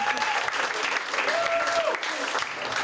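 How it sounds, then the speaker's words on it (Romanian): An audience at a comedy show claps in a dense, steady burst of applause lasting a few seconds. "Aplauze pentru Alex Manciu și Zebra Show!"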